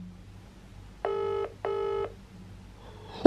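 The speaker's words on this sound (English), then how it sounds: "It's ringing." A FaceTime call rings out on a phone, two short electronic tone bursts with a pause between, fairly clear against a quiet room, followed by a sudden noise at the end.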